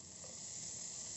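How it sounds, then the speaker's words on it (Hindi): Chopped green chilies sizzle in melted butter in a pan for pav bhaji, a brief, steady, soft frying hiss with no voices. "अब इसमें मैं हरी मिर्च डाल दूंगी कटी हुई,"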